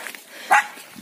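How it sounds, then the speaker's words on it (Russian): A small dog in a village lets out one sharp, close yap in an otherwise quiet moment, with faint rustling before and after. "Да хорош уже гавкать-то."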